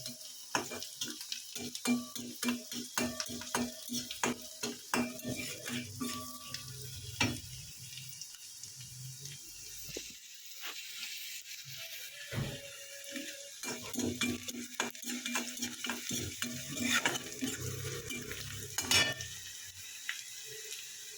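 A light sauté in a pan for a bhola fish dish. A soft, continuous sizzle sits under frequent clinks and scrapes of a utensil stirring against the pan, heard up close without any voices.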